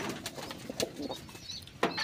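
Soft, low coos from a caged kalsira pigeon repeat alongside faint wing flutters and small scuffing sounds nearby, with no speech.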